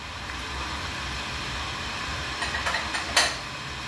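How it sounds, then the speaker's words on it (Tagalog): Steady broadband rushing and rumbling like water heating in an electric kettle, with a few sharper clicks and hisses near the end. "This is a very common sound ng kettle, electric kettle"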